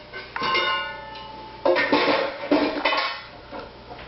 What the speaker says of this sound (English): The apples. And the creamy caramel. Put it all in the pot.